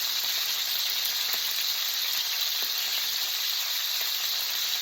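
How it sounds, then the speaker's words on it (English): Well-brined steaks frying in a pan with a constant, dense, close sizzle and faint occasional pops, steady throughout without speech. "I find these well-brined steaks stick to the pan."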